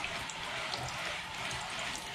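Ionized water is sprayed onto a visor at close range, giving a quiet, steady hiss that runs unbroken for a couple of seconds.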